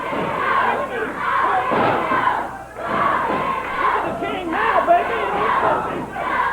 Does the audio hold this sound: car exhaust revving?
no